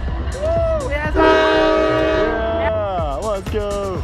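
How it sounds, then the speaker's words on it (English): A train passes near a bridge in Virginia, blaring long, loud horn blasts at close range while excited people cheer and shout over it. "It's a train!"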